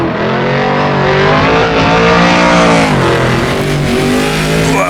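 A Corvette race car in Assetto Corsa with the World Sportscar Legends mod roars loud and close, its engine note sustained and climbing, briefly dipping before rising again.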